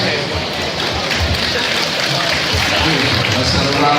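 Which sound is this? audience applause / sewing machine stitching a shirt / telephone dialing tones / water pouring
audience applause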